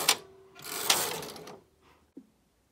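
Silver Reed or Singer knitting machine doing an automatic e-wrap cast-on: two quiet mechanical swishes of the carriage sliding across, followed by a faint click.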